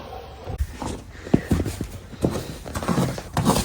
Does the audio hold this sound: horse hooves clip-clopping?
yes